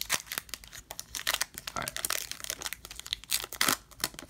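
A Pokemon Sun and Moon Burning Shadows booster pack is torn open up close, with repeated sharp foil crinkles and rips in quick irregular bursts, fairly faint overall.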